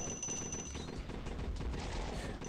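Automatic gunfire in the zombie survival game 200 Days Zombie Apocalypse: continuous rapid bursts of weapon fire, dense and steady throughout, heard up close with no talking.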